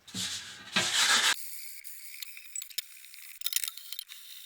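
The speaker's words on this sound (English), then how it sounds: "I am just running this 400 grit over the edge" 400-grit sandpaper wet-sands a wooden table edge back and forth in a few quick strokes, followed by light rattling and handling noises; no speech.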